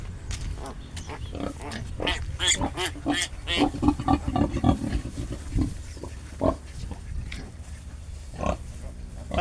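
Piglets grunting and squealing close by while nursing from their mother sow on a pig farm, a busy, continuous mix of short oinks and suckling grunts with no talk.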